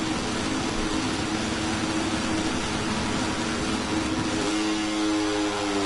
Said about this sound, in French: Le Grand Prix de Malaisie Moto 3 vient de se lancer alors qu'on essaye de se faufiler entre tous les pilotes